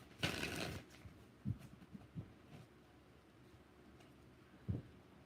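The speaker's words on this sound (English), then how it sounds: "5 shuffles." Tarot cards being shuffled by hand, a quiet close riffle burst at the start followed by several soft isolated card slaps and taps spaced out over a few seconds.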